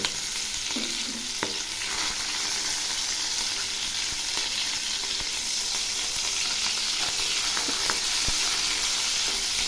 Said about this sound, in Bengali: এক পাশ ভাজা হয়েছে, এবার উল্টে দিচ্ছি